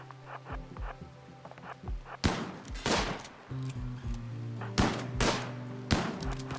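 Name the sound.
gunfire in the video game RimWorld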